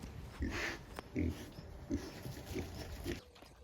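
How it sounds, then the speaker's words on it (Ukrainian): Vietnamese pot-bellied piglets grunting and snuffling in short, regularly spaced bursts, close by, over a steady noisy background. "Ще в нас є в'єтнамські поросятка"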